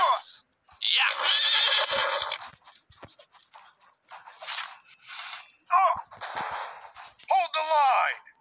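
Horse neighing and whinnying in the Shogun's Empire video game, several loud bursts between shouted battle cries and clattering combat noise.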